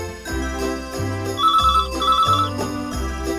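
A telephone rings repeatedly in short, evenly spaced electronic bursts, loud and close, over a steady low musical background with no talking.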